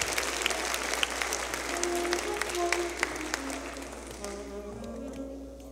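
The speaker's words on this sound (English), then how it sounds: "Come on, clap your hands for the Lord." Church congregation clapping their hands at a worship service, a steady patter of many claps with voices calling out and singing underneath, thinning toward the end.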